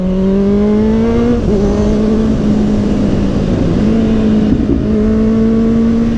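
A Kawasaki Z800e motorcycle engine hums under load while riding, its tone climbing through gears with brief dips at shifts, loud and close with wind noise behind.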